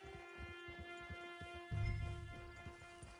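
Horse hooves clip-clop at a steady walking rhythm in the Red Dead Online video game, faint beneath sustained musical tones, with a louder low rumble partway through.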